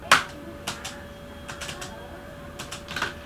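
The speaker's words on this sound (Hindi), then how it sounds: "अब मैं रिकॉर्ड कर लिया कीबोर्ड का साउंड" Computer keyboard keys are typed as foley in a quiet room, with scattered sharp clicks in small clusters, one louder tap at the start, close and alone.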